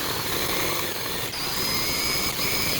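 A sharpened drill bit grinds against a Fiat 500 wheel lock, a loud, continuous harsh whir lasting a few seconds, close up, with a brief dip midway.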